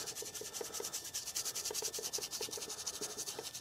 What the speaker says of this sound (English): Gonna scrub this on pretty thin.